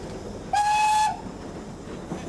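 A steam locomotive on a British line sounds its whistle at a whistle point before a bend: one short, loud, clear blast lasting about half a second.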